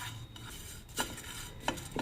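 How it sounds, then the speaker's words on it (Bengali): A spoonful of fennel seeds being dry-roasted in a hot, oil-free kadai, with scattered scraping and light clinking of a spoon against the metal over a steady background hiss. "1 চামচ মৌরি শুকনো কড়াইতে ভেজে নেব।"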